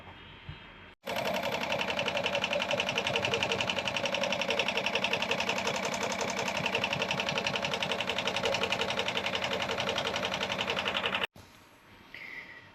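A machine embroiders a USAF logo onto a YP Classic cap with a rapid, steady mechanical chatter of stitches. It starts abruptly, runs loud and close for about ten seconds, then cuts off.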